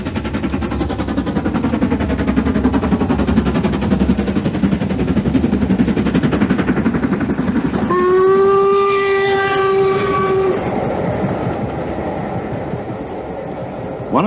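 LMS Black 5 steam locomotive 5305 Alderman A.E. Draper working the West Highland Line from Fort William, a loud, steady rumble of wheels and exhaust with a long whistle blast sounding partway through.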